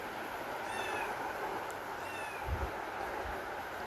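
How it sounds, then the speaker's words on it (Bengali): A kitten meows a few times on a quiet monsoon afternoon in Bangladesh, thin rising calls that are fairly faint against a steady background hiss, with a low bump partway through. "বিড়াল ছানাটা ডাকছে।"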